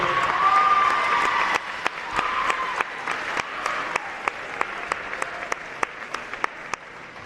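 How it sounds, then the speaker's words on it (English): Crowd applause honors the girls' varsity basketball champions at the Route 49 Classic championship game, a sustained steady clapping from a gym audience that thins into scattered sharp claps toward the end. "Let's give them another round of applause, folks."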